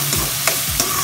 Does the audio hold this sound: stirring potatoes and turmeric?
yes